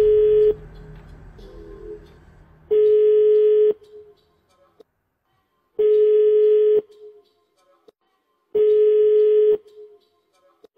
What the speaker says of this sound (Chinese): 这通决定吉利命运的关键电话是否能够接通呢